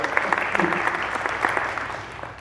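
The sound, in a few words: audience applause for the tech people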